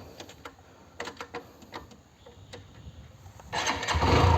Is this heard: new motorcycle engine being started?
yes